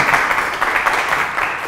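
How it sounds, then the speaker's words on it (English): A crowd applauds steadily for a presenter in a dense, continuous wash of clapping that lasts the whole moment. "Y'all give Josie a round of applause."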